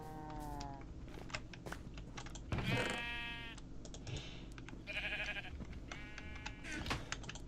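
Several bleats from Minecraft sheep, short wavering calls repeated at intervals, with quiet keyboard typing clicking underneath.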